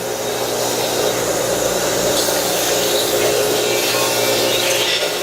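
Woodworking machine milling boards fed through one after another: a loud, continuous whirring, rasping roar of cutting wood that holds steady throughout, close by with no speech.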